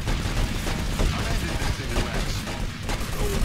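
GTA Vice City Stories gunfire, a rapid jumble of shots and bangs packed densely together at close range, loud throughout, with voices talking over it.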